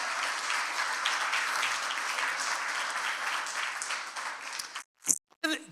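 A church congregation gives sustained applause, a dense, even roll of clapping for nearly five seconds that cuts off abruptly, followed by a few brief thumps.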